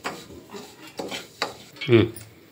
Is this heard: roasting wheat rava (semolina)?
yes